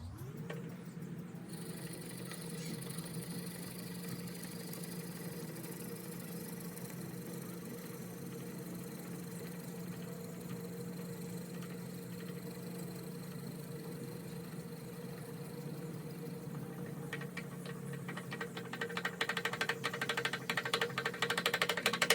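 A wood lathe bores out the center of a green black cherry bowl blank with a Jacobs chuck at reduced speed: a steady, continuous motor hum with a droning tone, growing louder and rougher near the end as the cut bites.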